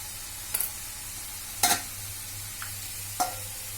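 Spice masala with turmeric and salt mixed by hand for stuffing okra, giving a few soft rustling, scraping bursts against a low steady hum, with quiet gaps between them.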